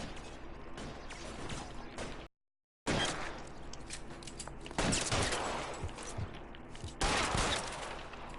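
Heavy gunfire in The Golden Butterfly: dense automatic bursts and volleys fill the clip, break for a half-second of silence, then return louder, with the hardest bursts near the end.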